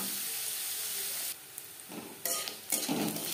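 Chopped onions fry in a pan with a loud, steady hiss. Bursts of sizzling and scraping swell as they are stirred in the latter half.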